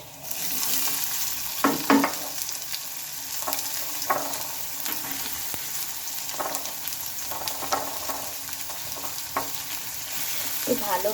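Chopped onion and garlic sizzle steadily in a hot pan, with intermittent scraping and stirring strokes cutting through the continuous frying hiss at close range, no talking.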